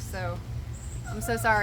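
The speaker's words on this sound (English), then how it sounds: "I know that you can hear a dog crying in the background." A deaf dog whimpers and whines in short, high cries in the background while a person speaks over it.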